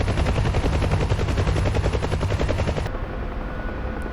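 A UH-1 Huey helicopter hovers in a flight simulator game, its rotor beating in a loud, fast, even thump that suddenly drops to a quieter steady hum near the end.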